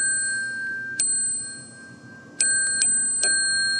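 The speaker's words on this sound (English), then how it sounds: "the vibration of this on the little bells is what makes them make that sound" Small chime bells ring in a quiet room: several clear, bright strikes, one around a second in, then a cluster of three or four close together, each with a long sustained ring.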